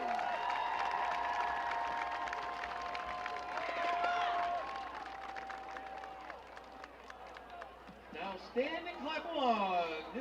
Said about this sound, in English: Please give a big round of applause for all of these senior Marching Eagles.